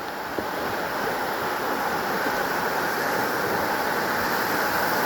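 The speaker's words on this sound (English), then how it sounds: "Going over Cameron Creek." Cameron Creek flows beneath a log bridge in a narrow forested valley, a steady, loud rush of water with some wind noise, continuous and without speech.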